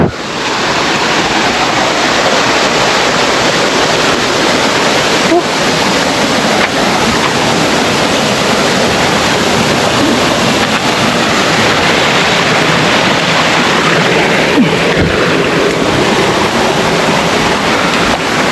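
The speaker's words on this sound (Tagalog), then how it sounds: "Pangayuwa nga waterfalls." A hidden waterfall reached on a hike gives a continuous, loud rushing roar of falling water, broad and unbroken for the whole stretch with no talking.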